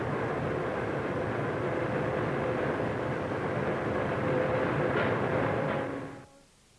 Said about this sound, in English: As the Manchester train arrives, the luggage is carefully hoisted aboard.